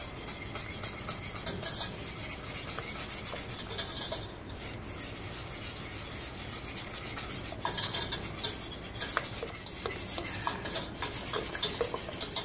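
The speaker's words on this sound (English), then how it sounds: "Now Kaylee's going to slowly add it to the pan. Stirring frequently." A spoon stirs a hot cocoa mixture for goat-milk brownie ice cream in a pan, making steady close scraping and rubbing sounds with a few faint utensil taps and no talking.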